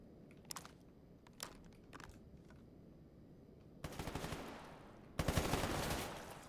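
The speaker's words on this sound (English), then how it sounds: "sometimes the saw just shoots all its bullets off to the left" A SAW machine gun fires in Stalker GAMMA, scattered single shots first, then two long, loud automatic bursts rattling close.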